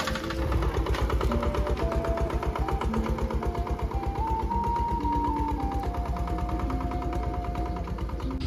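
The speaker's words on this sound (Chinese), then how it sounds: "前面呢开着拖拉机呢" A tractor engine runs continuously in a farm field, a loud, rapid, chugging drone with a dense throbbing pulse and a faint whining tone, steady and close throughout with no pauses.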